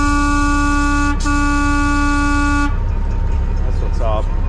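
A loud, steady truck horn on a cabover Aerodyne blares for a couple of seconds with a brief break, then cuts off, leaving engine rumble and background noise.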